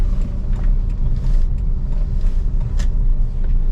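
Manual-transmission car driving and turning, a steady low engine rumble with road noise and occasional mechanical knocks from inside the cabin, no talk.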